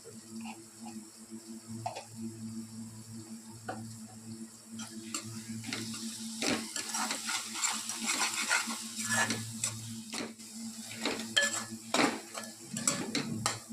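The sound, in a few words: stirring chicken frying in oil in a pan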